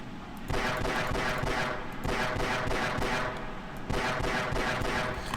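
Pistol firing in the Half-Life video game, with rapid, nearly continuous shots fired close and loud in dense bursts, each broken by brief pauses.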